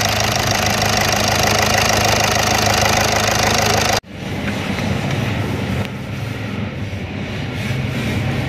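A Volkswagen Vento engine with a knocking fault runs at a steady loud idle, close up, with a continuous rattling drone that briefly cuts out and returns slightly softer and rougher.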